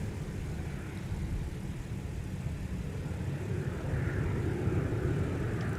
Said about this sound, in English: a Delta flight that is bound for the Big Easy in New Orleans, Louisiana, with a 737 900ER